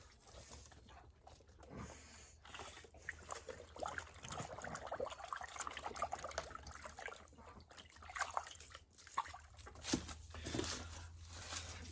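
Brain-tanned buckskin hide being washed in running water, with steady trickling, dribbling and splashing sounds close by, rising and falling over a constant low hum.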